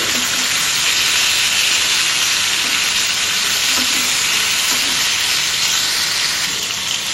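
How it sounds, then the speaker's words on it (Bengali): Catfish fries loudly in a pan, giving a constant, close sizzle and hiss with occasional faint spatters that keeps going without a break, and no one speaks. "মাছের একটা সাইড আমার ভাজা হয়ে গেছে। এবার আমি উল্টে অপেক্ষা করতে নেব"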